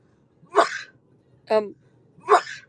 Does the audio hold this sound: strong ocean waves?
no